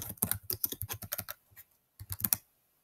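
Quick bursts of typing on a computer keyboard, close and clear, a rapid run of keystrokes, a short pause, then a few more taps in a quiet room.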